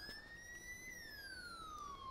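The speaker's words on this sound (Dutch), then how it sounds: "de sirenes blijven aanstaan" Ambulance siren in the video game GTA 5, a steady electronic wail that glides up and then slowly falls. It is heard close and loud over a faint background, with no one talking.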